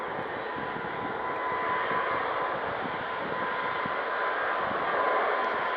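Ryanair airliner taking off at Manchester Airport, a broad continuous jet roar with rumbling low end, heard from some distance and steady throughout, with no voices.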